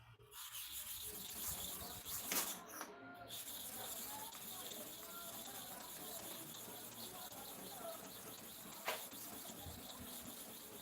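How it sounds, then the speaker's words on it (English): Rotted hair clipper blades are rubbed back and forth across a sharpening surface, producing a steady, quiet scraping texture that runs throughout with only brief pauses. "we are going to repeat this one 30 times here, 30 times here to cover the whole surface when sharpening the first half"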